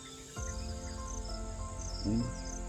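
Steady, high-pitched cricket chirping continues throughout, moderately loud and close, with a faint low hum underneath.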